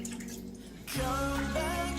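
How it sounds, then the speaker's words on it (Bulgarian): Water splashes into a hot frying pan used for stuffed peppers, a sudden close sizzle and pour starting about a second in and continuing steadily to the end. "Тук сипвам тиганчета водичка, просто да обера мазнинката."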